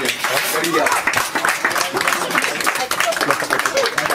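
Applause and clapping ring out after a boxing bout at a boxing event, dense and steady throughout, with voices talking over the clapping.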